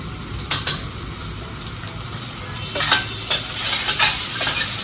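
Turmeric being stirred into tomatoes sizzling in a pan for Puneri misal, with a steady frying hiss and several sharp scraping strokes of a spoon against the pan.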